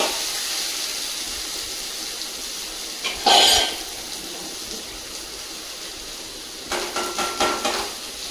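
Chopped ridge gourd with chutney, salt and peanuts being turned in hot oil, a steady frying hiss with a sharp utensil scrape midway and a quick run of stirring clatters near the end, no voices.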